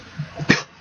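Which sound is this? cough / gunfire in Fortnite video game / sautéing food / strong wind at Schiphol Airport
cough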